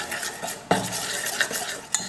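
A metal spoon scrapes and clinks around a pot of jaggery dissolving in a little water, several close, uneven stirring strokes with sharp knocks against the vessel and no talking.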